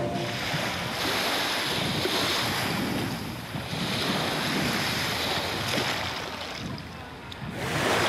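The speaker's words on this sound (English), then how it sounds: "We're on Shipwreck Beach." Surf washes steadily onto Shipwreck Beach on St Kitts, a continuous close roar of breaking waves mixed with gusty wind buffeting the microphone, with no voices.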